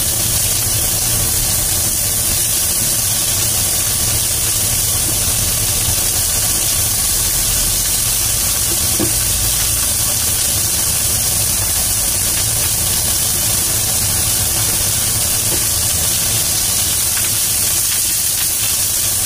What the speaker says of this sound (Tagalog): Igisa natin.